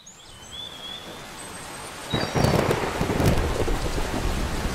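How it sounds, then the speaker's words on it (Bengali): Cartoon rain and thunder: faint birdsong over light rain gives way to a sudden loud thunder crack and heavy downpour on a surface, the storm continuing loud and close. "বৃষ্টি শুরু হয়ে গেল, চলো ঘরে গিয়ে বসি"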